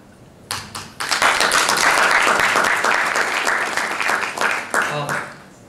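Audience at a panel session breaking into applause: sharp onset of dense clapping that swells, holds steady, then thins out with a few scattered claps at the end.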